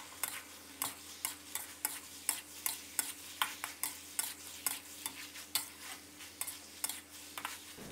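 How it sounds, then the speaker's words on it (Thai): Long eggplant and minced pork stir-fried in a pan, with a steady run of sharp spatula scrapes and clacks every half second or so over a low sizzle, no voices. "ใส่วัตถุดิบหลักลงไปเลยครับมะเขือยาวของเรานะครับใส่ลงไปเลยครับแล้วก็ผัดคลุกเคล้าให้เข้ากันเลยครับ"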